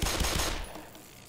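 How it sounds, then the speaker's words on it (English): Rapid automatic gunfire in the video game Black Mesa, aimed at a sentry turret: a loud, dense burst that fades out after about half a second. "Just run out there and shoot it."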